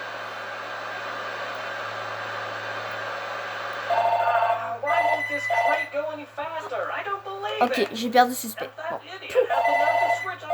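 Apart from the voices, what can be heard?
telephone ringing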